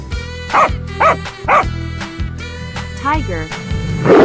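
A cartoon dog in a 3D animal slide game yaps several times in quick, evenly spaced barks, sitting up front over bouncy background game music.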